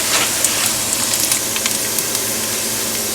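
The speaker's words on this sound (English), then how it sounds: "So now I'm going to add in my onions and my peppers." Onions and peppers sizzle in a hot pan, a steady soft frying hiss with faint crackles and pops, close and continuous throughout with no talking.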